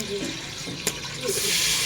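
Bitter gourds are dropped into a hot pan with a sharp thud, then a rising, bright sizzle of moisture hitting the hot surface builds and holds; faint talk is heard beforehand.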